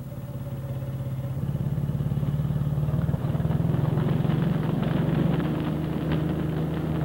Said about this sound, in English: I have a power takeoff on the back of the tractor, which is a pulley wheel, and that runs the belt.